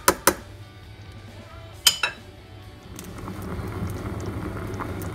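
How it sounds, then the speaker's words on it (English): Water boiling in a cooking pot for asparagus beans, with a steady bubbling rumble rising after a few sharp clinks of a pot or utensil near the start. "it's boiling already"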